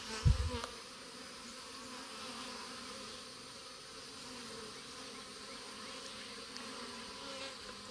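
A strong honeybee hive gives a dense, steady buzz of many bees at close range, continuous throughout after a brief thump at the start.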